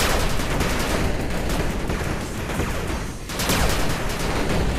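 Gunfire from units in the 8-Bit Armies strategy video game: a dense, continuous barrage of rapid overlapping shots and bursts, loud and unbroken apart from a brief dip near the end.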